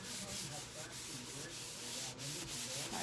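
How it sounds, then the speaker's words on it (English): A disinfectant wipe rubs across a cart in quiet, continuous scrubbing strokes, close and soft, with a few slightly sharper swipes and no voices. "Wiping down our cart, wiping down each of our individual containers."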